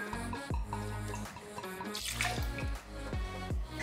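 Rye whiskey poured into a cocktail glass, a close, quiet liquid pour with small splashes and trickles lasting a few seconds, no talk.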